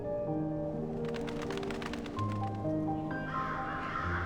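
A crow caws a few times over a sustained bed of music, the calls soft and set back in the mix.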